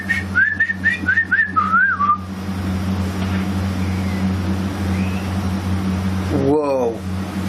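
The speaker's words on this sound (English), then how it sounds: "That was a whistle, a gentle whistle." A soft, gentle whistle flutters up and down in a short tune over a steady low engine hum, followed later by a brief voice.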